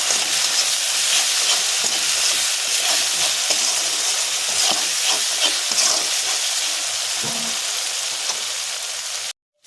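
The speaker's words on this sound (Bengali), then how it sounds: "লবণ হলুদটা দিয়ে আবারও একটু নেড়ে করে নেব" Pieces of katla fish with turmeric and salt fry in a pan, a continuous close sizzle broken by soft scraping and clattering as they are stirred, with no voices.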